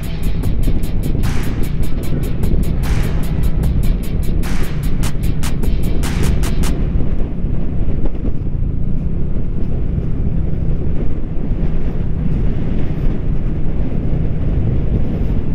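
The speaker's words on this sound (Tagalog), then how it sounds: "Grabe, lakas nga ng hangin." Strong wind on sand near the Bangui windmills roars and buffets the microphone continuously, a loud, rumbling gusty blast with rapid clicking ticks early on and no voices.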